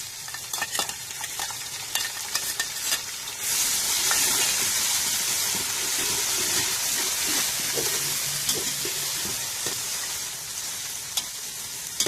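Crushed green chillies, ginger and garlic hit a hot pan with a loud, steady sizzle that swells and then holds as a bright continuous hiss, with light stirring scrapes now and then and no talk.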